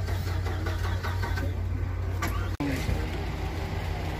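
Car engine turning over and settling into a steady idle, a constant close low rumble with a brief cutout partway through.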